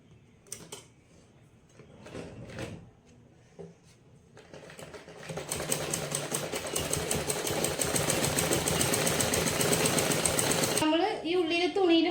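A sewing machine runs in a steady, loud continuous burst while stitching fabric for a deep neckline, preceded by brief handling clicks and taps; a voice speaks over the end.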